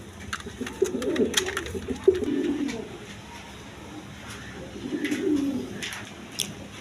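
Pigeons coo in low, rolling bursts from a breeding pair kept for sale, two clear cooing phrases near and moderately loud, with faint chirps and background noise in between.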